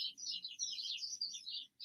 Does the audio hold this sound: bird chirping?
yes